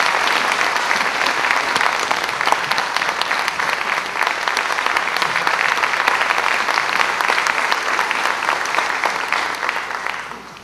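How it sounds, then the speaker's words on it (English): Sustained applause from an audience at a high school performing arts center after a performance, dense and steady throughout, tapering off slightly at the very end. "about one more round of applause for a great performance there"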